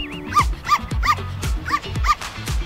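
A dog barks in a quick series of about five sharp, close, loud yips and barks at a brisk, fairly even rhythm, with no voices over it.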